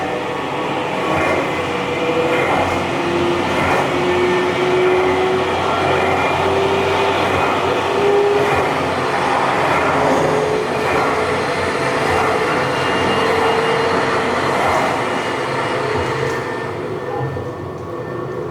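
The Stellarvator space elevator ride at EPCOT's Space 220 restaurant plays a loud continuous rumbling whoosh of motion effects, steady and train-like with faint whining tones rising through it for the whole stretch.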